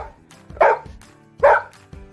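A dog gives two sharp, loud barks about a second apart, each followed by a brief quieter tail, with no voices.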